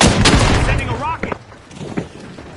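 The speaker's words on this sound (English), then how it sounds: "Sending a rocket." A rocket fires and bursts in The Finals, a sharp explosive boom at the start followed by further gunfire-like blasts and a rising whoosh, loud and close in a game arena.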